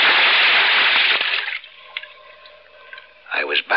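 A radio-drama water effect for a scuba diver diving opens with a loud rushing splash of water. It fades to quiet bubbling and gurgles, then a burst of bubbles returns near the end.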